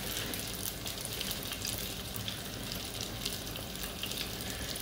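Sausages, cut with small slits, fry in a hot pan with a steady, dense sizzle that holds at an even level throughout, close and loud with no voices.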